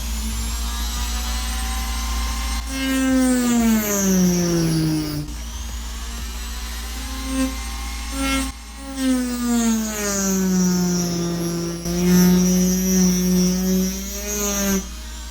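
A rotary tool fitted with a mini saw disc whines at high pitch, rising and falling in speed as it cuts in several passes separated by brief drops, close and loud over a constant low hum.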